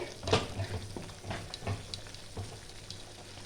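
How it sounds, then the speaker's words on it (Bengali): Masala for khichuri, two spoonfuls, fries in oil while being stirred, giving a quiet sizzle with soft, irregular scraping strokes close by. "এই মশলাটাকে ভালো করে আমি কষিয়ে নেব"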